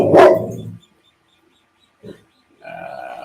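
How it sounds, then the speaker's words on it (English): A dog barks close by, with one loud bark at the start, a short faint yelp about two seconds later and a final rougher bark at the end, separated by silence. "what are you barking at, Jack?"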